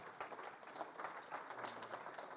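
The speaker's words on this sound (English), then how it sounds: "You're applauding me not being a Nobel laureate." A lecture audience applauding, a faint, even spread of many hands clapping heard from a distance for a couple of seconds.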